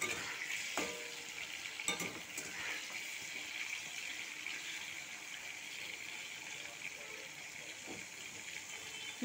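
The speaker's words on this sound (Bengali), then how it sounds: "চিংড়ি মাছগুলো ভালো করে ভেজে নেব।" Prawns frying in hot oil for a Bengali potato and Malabar spinach stem curry, a steady broad sizzle with a few scraping stirs, close and moderately loud, no talk.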